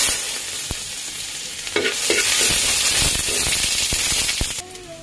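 Sliced ginger drops into hot cooking oil in a home kitchen and bursts into a loud, steady sizzle with crackling spatters and the scrape of stirring, close up and alone.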